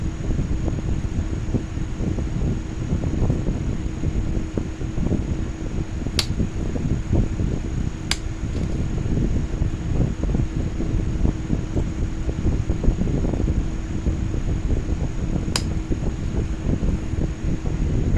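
A Dremel fitted with a diamond wheel grinds the edges of a glass wall tile, giving a steady, continuous whirring hum with a gritty rasp that carries through the whole stretch, close and unbroken, with no talking.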